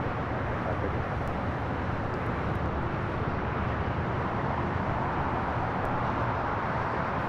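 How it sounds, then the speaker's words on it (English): An Airbus A321 of Viva Aerobus taxis on a taxiway at LAX, heard as a steady, broadband jet roar that holds level throughout with no voices over it. "There on taxiway Kilo is Viva Aerobus Flight 623 heading back to Monterrey, Mexico. It's an A321."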